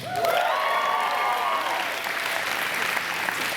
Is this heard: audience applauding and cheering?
yes